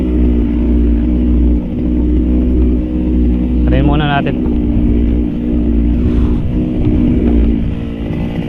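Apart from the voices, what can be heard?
malfunctioning engine running and failing to start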